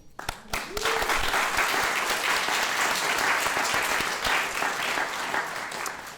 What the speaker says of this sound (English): So just want to applaud all of you.